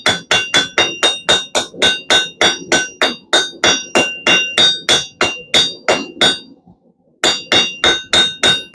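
A blacksmith hammers round stock on an anvil to taper it, striking in a fast, steady rhythm of loud ringing blows close by; there is one short pause, then the hammering resumes.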